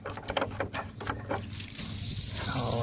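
Water pouring out of a full camper water tank through its opened drain plug, a steady gushing flow that builds and continues with some early handling noises.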